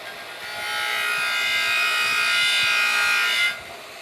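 Arc Captain Cut55 Prolux plasma cutter in rust-removal mode working over rusty metal, a steady close hiss lasting about three seconds before cutting off abruptly, with no talk.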